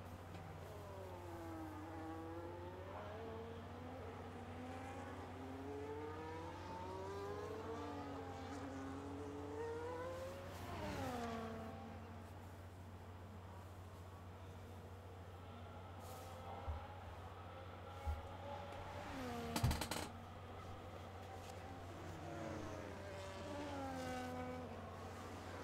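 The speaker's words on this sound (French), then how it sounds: "Alors que 7 des 10 pilotes sont en piste présentement en tour de sortie." Race cars on a qualifying out-lap at the Canada round, engines rising and falling in repeated passes with gear changes, mostly moderate and somewhat distant, with a few sharp louder bursts near the end.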